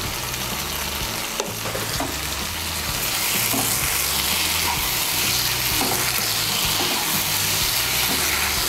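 Okra sabji with a pinch of sugar fries over high heat in a pan, a dense, loud, continuous sizzle broken by scraping stirs of the spatula; no voices are heard.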